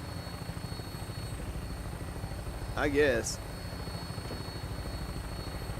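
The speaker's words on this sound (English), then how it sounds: "this thing's like a VTOL helicopter" VTOL aircraft flying in Fallout 4, a constant low rotor drone with a brief burst of other noise in the middle and someone talking over it.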